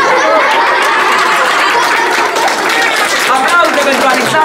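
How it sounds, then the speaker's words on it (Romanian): Audience at a book launch in Slobozia applauding steadily, a dense wash of clapping mixed with crowd chatter and a few chuckles, fairly loud and sustained throughout. "Aplauze pentru Alexandru, vă rog, bună, doar aplaudați-l!"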